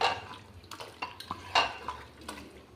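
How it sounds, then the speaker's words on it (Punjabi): A spoon scrapes and clinks against a pan while pumpkin sabzi with boiled potatoes is stirred, producing irregular metallic taps and knocks over a soft, close bed of mixing. "ਸਾਰੀ ਸਬਜ਼ੀ ਨੂੰ ਚੰਗੀ ਤਰ੍ਹਾਂ ਆਪਾਂ ਮਿਕਸ ਕਰ ਦਾਂਗੇ"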